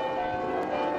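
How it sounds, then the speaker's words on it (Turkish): A church bell rings in Bruges, a single sustained steady tone lasting the whole moment, with no other sounds and no voices. "Şu an duyuyor musunuz çan çalıyor?"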